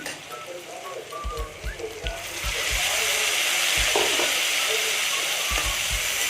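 Curry leaf paste frying with browned potatoes in a pan for an egg curry, a steady loud sizzle that swells and holds after a couple of seconds, with occasional low knocks of stirring near at hand.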